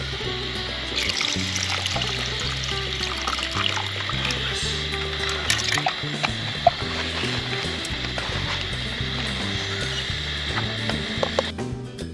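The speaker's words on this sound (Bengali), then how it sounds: "নশো গ্রাম জল, তার সঙ্গে আমুল দুধ মেশানো জল দিয়ে দিলাম।" Water mixed with Amul milk trickles and pours into a pot at a jungle night campsite, a steady liquid stream joined by scattered clinks and knocks of utensils, close and clear.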